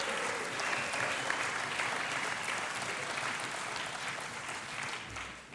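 Sustained applause from a large crowd of union delegates at a combined delegates meeting in a hall, dense and steady for about five seconds before it tapers at the end.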